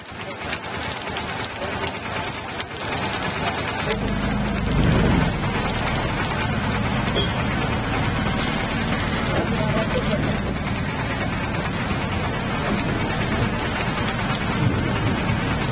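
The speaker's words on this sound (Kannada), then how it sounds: "ಚಾರ್ಮಾಡಿ ಘಾಟಿಯಲ್ಲಂತೂ ಸಿಕ್ಕಾಪಟ್ಟೆ ಮಳೆ ಬರ್ತಾ ಇದೆ" Heavy rain pours down in Chikkamagaluru near Charmadi Ghat, a dense, steady hiss of downpour drumming on surfaces throughout, loud and close with no break.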